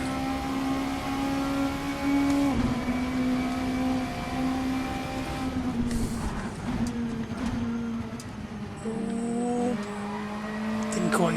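A VRC touring car engine in Assetto Corsa revs steadily up toward the red line, a sustained droning whine that climbs in pitch with a gear change midway, close and continuous with no voices over it.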